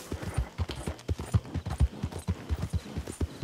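Horse hooves clip-clop in a steady, rhythmic trot in the Red Dead Redemption 2 video game, each footfall clear and close with a faint background wash.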